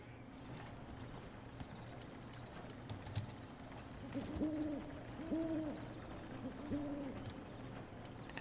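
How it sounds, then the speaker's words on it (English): An owl hoots softly at a distance, giving three or four low, repeated hoots against a faint outdoor background hiss. "Owl noises."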